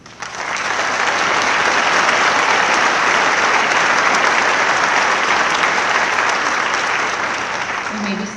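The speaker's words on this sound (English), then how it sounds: "Please offer your applause to these honorees." Large crowd applauding at the Rhodes State College 2019 graduation ceremony, swelling quickly into loud, sustained clapping that fills the hall before easing slightly at the close.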